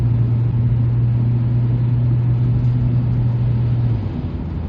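A 1997 Volvo 940 estate with a 2.3 light-pressure turbo engine and automatic gearbox accelerates to 70 mph, a steady mid-pitched engine drone with a sustained tonal hum that eases off near the end, heard from inside the car with no talk.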